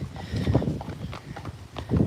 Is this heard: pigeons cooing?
no